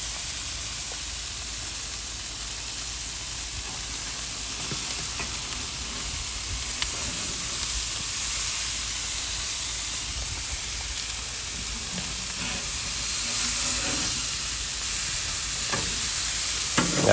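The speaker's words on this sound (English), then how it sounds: "You want to get those bison burgers nice and crispy on one side before you flip them." Ground bison burger patties fry in a pan with a steady, bright sizzle and spitting hiss that holds for the whole stretch, with a few faint scrapes and clicks and no talking.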